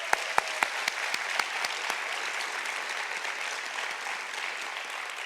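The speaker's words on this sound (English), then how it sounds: "I think they deserve a round of applause for their wonderful work" Applause for Naomi and Danielle at a 2019 end-of-year ceremony for international master's degree programs, opening with a few sharp, separate claps that quickly swell into steady, even clapping from an audience, alone and fairly close.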